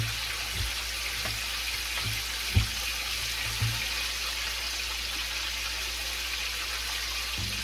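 A tap running into a kitchen sink while flour is washed out of a pan, a steady close stream of water with a few soft knocks and clunks of the pan against the basin.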